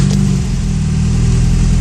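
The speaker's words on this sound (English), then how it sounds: "That's the sound of a Porsche 914 starting quickly and idling properly." A 1973 Porsche 914 with a fuel-injected 2.0 engine runs at a steady idle after starting, a loud, continuous low rumble with an even throb and no voices.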